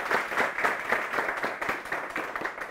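A studio audience on a French-language talk show claps to welcome a guest, producing brisk, even applause with distinct hand slaps that continues unbroken and at moderate volume across the whole span.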